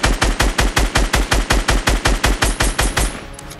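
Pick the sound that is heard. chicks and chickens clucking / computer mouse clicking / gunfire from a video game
gunfire from a video game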